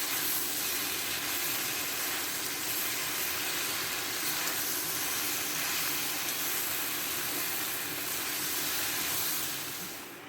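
Pointed gourd and shrimp frying in a wok with no water added, a steady loud sizzle and hiss running continuously as the mix is stirred, fading slightly at the very end.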